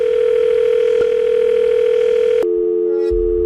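A cartoon phone call rings out as a steady electronic tone, loud and continuous, that shifts pitch briefly near the end with no voices over it.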